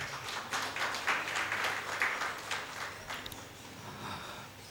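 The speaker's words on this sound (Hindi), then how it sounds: "मैं चाहता हूं कि एक बार उनके लिए आप तालियां बजाएं।" Audience applause at an Urdu poetry gathering, a steady wash of many hands clapping at moderate level from a hall crowd, sustained throughout without speech.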